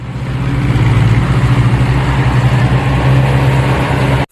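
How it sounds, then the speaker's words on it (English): A steamroller's heavy engine idles with a loud, even, low rumble that runs steadily for about four seconds and then stops suddenly. "Steamroller."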